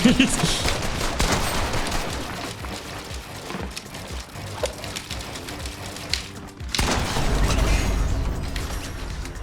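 Rapid gunfire in the Fortnite video game crackles in dense bursts and volleys, with a brief lull before a heavier stretch of shots, while a voice talks now and then over the shooting.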